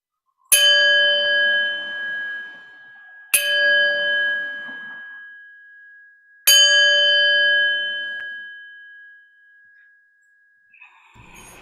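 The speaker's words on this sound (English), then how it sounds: "So I will start the meditation with 3 bells, and I will end it with 3 bells." Three meditation bells strike one after another a few seconds apart, each a clear ringing tone that rings on and slowly fades, with no voices over them.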